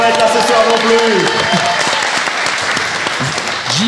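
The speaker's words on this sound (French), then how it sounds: "Un tonnerre d'applaudissements pour Chief, notre ingé son qui ne peut pas être là ce soir non plus." Audience at a live podcast event in Rennes breaking into loud, dense applause, with cheers and a voice rising over the clapping.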